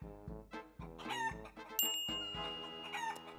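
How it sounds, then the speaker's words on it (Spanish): A hen clucks in short bursts over cheerful background music, with a bright chime ringing partway through. "Gallina."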